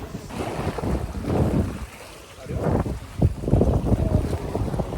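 Strong gusts of wind by the water on Munro Island buffet the microphone in surging waves, rising and falling loudly, with the wash of water faintly beneath.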